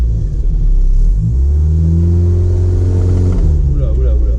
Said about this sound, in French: je vais essayer d'accélérer